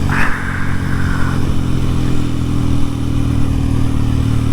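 Engine of a 2023 Kawasaki KLX 230SM supermoto motorcycle, a small single-cylinder bike, running steadily and close by, with a brief rise in revs at the start and a continuous throaty drone throughout.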